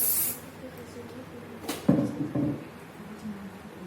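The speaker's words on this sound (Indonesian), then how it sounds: "kita hairspray dulu supaya dia agak kencang" Hairspray hisses in short bursts onto a doll's hair bun in a Betawi-style updo, faint and close, with a few light handling knocks around it.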